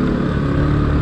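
A Bajaj Pulsar NS 200 FI motorcycle from 2022 roars at high speed, its engine a loud, continuous, steady drone with wind rush, no talking.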